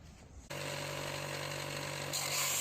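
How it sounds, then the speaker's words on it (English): A power sander shapes and thins a green ash stick, starting up abruptly after a quiet moment and then whirring steadily and close with a constant motor hum, no talking. "I'm just shrinking this branch with the sander"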